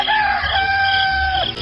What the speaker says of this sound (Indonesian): Kalian dengar suara kokok ayam jago itu?